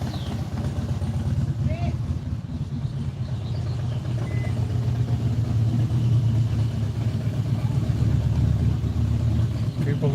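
Harley-Davidson motorcycle engine producing a sustained low, throaty rumble at moderate distance, steady and continuous with slight swelling toward the end.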